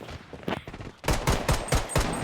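Gunfire in the video game Blood Strike: a rapid burst of about six loud, evenly spaced shots near the end, after a few scattered softer pops, with no voices.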